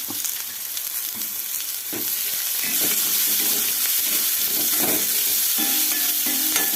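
Onions dropped into a hot pan with cabbage waiting, sizzling and frying steadily while a spoon scrapes and stirs in irregular knocks, close and fairly loud throughout.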